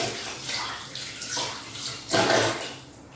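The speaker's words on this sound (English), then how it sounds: "So, a little wash of hands because I'm covered." Hands washed under a running kitchen tap, water splashing close by in uneven bursts that swell and fade, with a louder gush near the end and no talking.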